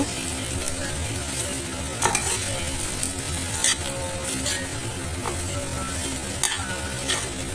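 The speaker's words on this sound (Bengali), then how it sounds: "এখন এগুলো দিয়ে আবার খুব ভালো করে মিক্স করে দিব" Turmeric powder, salt and spices stirred in a pan for a wedding-style matar paneer curry: a steady close scraping and sizzling texture with occasional sharper utensil knocks, no voices.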